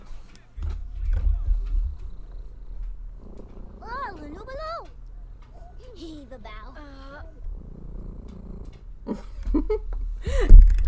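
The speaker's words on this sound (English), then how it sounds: "And Parky is purring so loud, I don't know if you guys can hear him or not." A cat purrs loudly and steadily right up close to the microphone, a continuous low rumble that runs throughout while a person talks over it.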